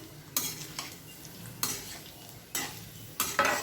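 Thinly chopped beetroot stirred through hot oil tempering, four separate bursts of scraping and clattering against the pan over a faint background sizzle, close up and with no talking.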